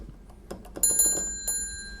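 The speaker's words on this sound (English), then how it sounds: "maybe I should put the bell mute on so that we're not ringing the bell all the time" A small bell on a 1920s Monroe model K mechanical calculator rings with a bright metallic ding among light mechanical clicks and clatter, then a second shorter ring, close and alone.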